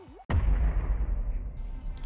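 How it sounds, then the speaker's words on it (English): Deep, booming explosions from a Godzilla vs Kong movie trailer arrive as a sudden loud blast after a brief quiet swoosh, followed by a heavy rumbling roar that holds steady to the end. "Trailer should start with explosions"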